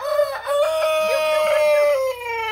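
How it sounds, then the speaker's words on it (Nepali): A local rooster crows close by in one long, loud, drawn-out call lasting about two seconds. "यहाँनिर हाम्रो भाले छ भाले"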